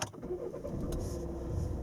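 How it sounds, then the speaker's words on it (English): A Volvo S80 Mk2 engine starts with a push-button start, then settles into a steady, close, low idle that runs on without talk. "I'm going to put my foot on the brake and I'm going to click on start engine"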